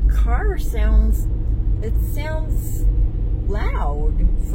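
Car engine rumbling loudly from inside the cabin while driving, a constant low drone beneath a person talking throughout.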